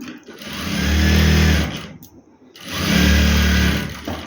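A sewing machine stitches a two-year-old baby boy's dress, two bursts of fast, loud, close motor whirring with a brief pause between them.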